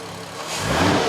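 A VW Golf R32 engine rises from idle into a quick rev, the raspy note swelling louder over about a second, close by.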